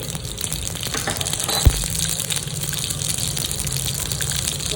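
Mustard seeds and cumin frying in hot oil in a kadhai give a steady, dense hiss of sizzling with one sharp pop partway through; no one speaks.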